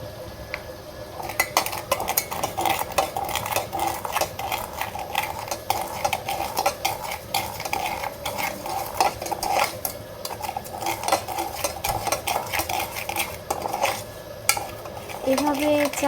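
Sugar and tea leaves fry in a pan on a stove, with continuous close scraping and stirring, clinks of utensil against metal and a light sizzle underneath, all steady and fairly loud with no talking.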